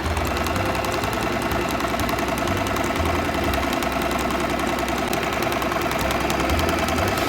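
An electric sewing machine stitches a normal straight stitch in a steady, loud mechanical whir with rapid rhythmic knocking, continuous and close throughout.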